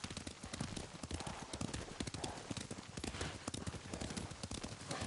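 Steady clip-clopping of horse hooves at a trot in the video game Ghost of Tsushima, dense and rhythmic throughout, with faint speech mixed in under the hoofbeats.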